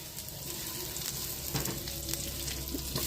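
Chopped garlic with green cardamom, cloves and cinnamon sizzles in hot oil in a kadai, a steady, faint crackling fry with light scraping as it is stirred.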